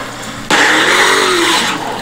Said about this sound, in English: Driving the Hellcat with NLE Choppa